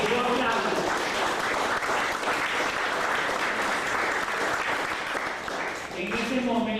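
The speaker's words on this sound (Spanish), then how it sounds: "y que yo aplaudo." An audience applauds at a political speech marking Fidel Castro's 92nd birthday, giving a dense, steady wash of clapping that holds throughout, with voices briefly audible at the start and end.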